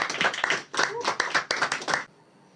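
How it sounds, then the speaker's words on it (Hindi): Small audience clapping for a performer at a poetry gathering, a fairly close, irregular patter of individual claps that stops abruptly near the end. "सबसे पहले तालियां अंकित भाई के लिए क्योंकि सबसे पहले आने वाले थे।"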